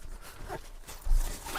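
A zip on a pocket of a bag bought online for van life is pulled open, giving a short scratchy rasp at close range with no voices over it.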